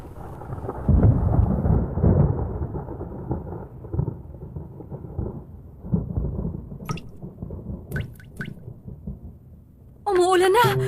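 Cartoon rain pours down with a steady broadband wash and low rumbling thunder, dense at first and slowly easing, with a few sharp higher effects near the end.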